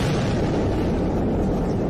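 A bomb explosion roars as a loud, dense, sustained boom filling the whole short stretch with heavy low rumble and no clear gaps.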